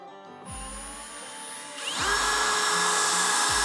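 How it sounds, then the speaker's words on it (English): A power drill with a 1/8-inch bit bores a pilot hole, whirring steadily, its pitch climbing as it spins up and bites, loud and close, with a brief dip partway through. "Use the 1/8-inch drill"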